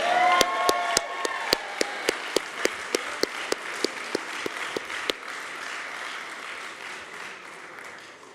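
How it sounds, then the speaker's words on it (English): Applause for graduates at a training program ceremony, sparse and rhythmic with distinct sharp claps ringing out over a softer wash of clapping, tapering off after about five seconds. "Let's give a big round of applause for the graduates of Chase Center Training"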